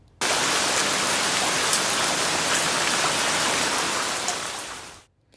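A voice imitating the sound of rain, a steady broadband hiss like rainfall on a surface that runs continuously for about five seconds at close range before cutting off.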